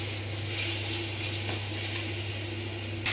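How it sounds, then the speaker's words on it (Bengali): Spices and sugar sizzle steadily in a pan for a sweetish bottle gourd curry, a continuous close frying hiss with a low hum underneath and a faint scrape or two near the end. "সব মশলাগুলো দিয়ে একটু কষিয়ে নেব।"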